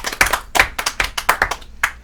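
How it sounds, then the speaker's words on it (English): A handful of separate, close hand claps with uneven rhythm from a small talk-show studio audience, sharp and distinct with short gaps between them. "So a big round of applause for that."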